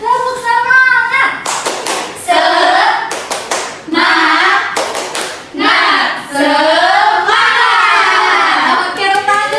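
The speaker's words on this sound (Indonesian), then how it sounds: "sekarang Ibu ajarin tepuk semangat" A classroom of children performs a rhythmic group clapping game led by a teacher, with bursts of fast synchronized claps alternating with chanted speech and a voice.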